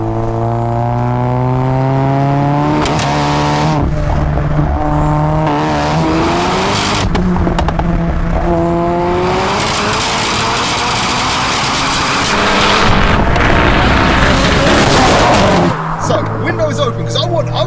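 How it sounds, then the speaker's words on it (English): A 900bhp front-wheel-drive Seat Leon Cupra doing a rolling launch, its engine note climbing through rising harmonic sweeps across the gears, loud and close, with people talking over it. "I want to hear what this sounds like from the outside with that rolling launch"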